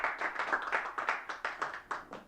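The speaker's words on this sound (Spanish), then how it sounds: "un fuerte aplauso al Señor." A church congregation claps in quick, steady rhythm, about a dozen sharp hand claps in two seconds, moderately loud and close, with no talking over them.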